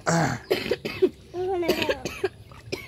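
Several people cough in quick succession, harsh bursts close by, with a throat clearing mixed in and no speech.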